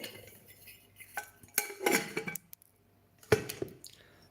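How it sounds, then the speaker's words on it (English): The lid of a brand-new brass kettle is handled, giving a few close metallic clinks and scrapes in short irregular bursts with quiet gaps between them. "it's the lid, nice little kettle, brand new"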